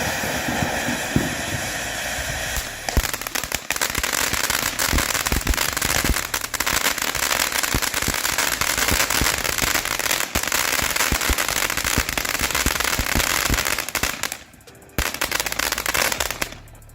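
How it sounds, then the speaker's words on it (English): A Fruit Bowl Fountain consumer firework crackles loudly and continuously for about fourteen seconds, a dense stream of sharp pops and sizzling, then briefly dies down before a final burst. "you can see how nice those colors are and how strong that crackle is"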